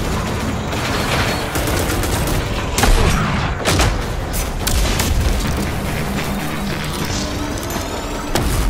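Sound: gunfire from powerful weapons in RAGE 2 video game

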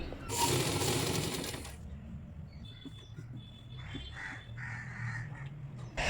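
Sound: sewing machine stitching a nightie

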